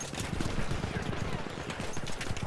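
Rapid, continuous light-machine-gun fire in Battlefield 1, a dense rattling burst that runs throughout at a fairly steady level, with some voice in the background.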